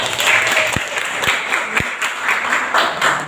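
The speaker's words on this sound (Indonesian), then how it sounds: "Tepuk tangan boleh" Schoolchildren in a classroom applaud during a morning lesson, a loud, dense burst of clapping from the whole class that carries on without pause, with a few sharp low knocks standing out.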